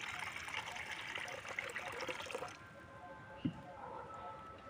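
Water pours and trickles into a bowl while making a mango drink, a steady splashing flow for a couple of seconds that cuts off, followed by a faint knock and quiet room sound.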